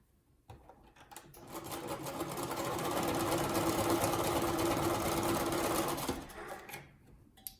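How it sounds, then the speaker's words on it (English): A sewing machine stitching rows of a churn dash quilt block together, a close, steady mechanical whirr that builds up, runs continuously for a few seconds, then slows and stops, with no talk. "And then I'm going to sew this side to this side."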